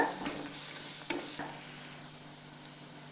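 Crushed garlic frying in a pan, a soft even sizzle with a sharp spoon tap against the metal and a fainter click near the end.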